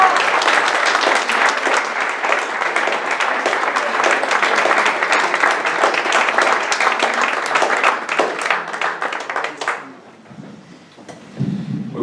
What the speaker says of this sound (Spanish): Un fuerte aplauso para Antonio Merallo.